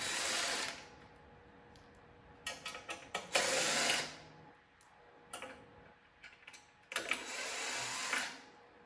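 Screws are backed out of a 12U AxcessAbles equipment rack: three or four short bursts of mechanical whirring and clicking, close by, with quieter ticks and handling noises between them and no voices.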